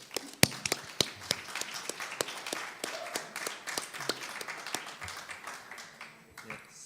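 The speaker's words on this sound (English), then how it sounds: "Let's applaud them." A small audience at a media-lab workshop claps for the participants, with sharp, scattered individual claps close by that thin out toward the end, while voices murmur underneath.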